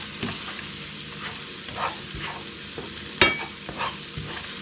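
Habanero pepper frying in hot oil in a home kitchen, a steady close sizzle broken by a few scraping stirs and one sharp clack from the pan.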